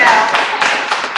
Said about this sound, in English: So clap it up for Giselle.